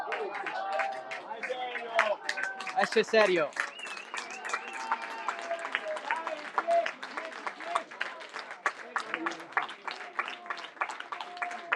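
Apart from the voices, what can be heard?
football fans applauding a substituted player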